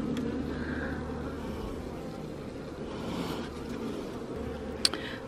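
A steady, dense hum of many bees fills the air, with a low drone underneath and a brief sharp click near the end.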